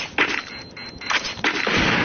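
A grenade goes off in a video game with several sharp, loud blasts, close and punchy, spread over about two seconds with no talking.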